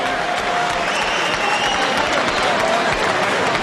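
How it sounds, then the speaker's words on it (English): Dense applause from a large crowd at the David Tua vs John Ruiz boxing match, continuous and fairly loud throughout, with a faint voice running underneath. "we'll get quite a nice round of applause here"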